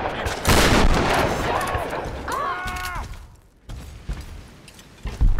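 Shotgun blasts in Tomb Raider Definitive Edition ring out loud and close in a fight, mixed with metallic mechanical clanks and a creaking tone, while a voice talks over the action.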